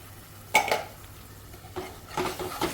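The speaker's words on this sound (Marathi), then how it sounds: "चांगलं मिक्स करून देते मसाला" A utensil scrapes and clinks against a pan in two short bursts of stirring masala for chole gravy, with a faint background hum between them.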